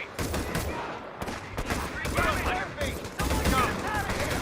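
Rapid bursts of automatic rifle fire from a BAR in a WWII video game mix with other battlefield gunfire, crackling in repeated volleys under shouted voices.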